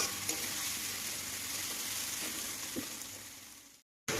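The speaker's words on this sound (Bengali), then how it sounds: "আমরা ব্রাউন হওয়া পর্যন্ত একটু ভেজে নেব।" Onions fry in oil until brown for a prawn curry, making a steady close hiss of sizzling with faint stirring scrapes. The sound drops to a brief silence near the end, then resumes.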